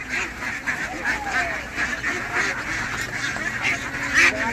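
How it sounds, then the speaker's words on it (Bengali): Frightened ducklings at a hatchery give a constant chorus of high, overlapping peeping quacks, close and fairly loud, with a few sharper calls rising above the crowd. "এখন হাঁসগুলো আপনার ভীত সন্ত্রস্ত অবস্থায় রয়েছে দেখতে পাচ্ছেন"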